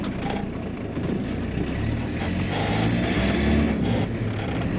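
A Volkswagen Caddy engine, rescued from a scrapyard and fitted with a new pump and fresh oil, revs and spools up with a steady loud rumble that swells toward the end, with no talk over it.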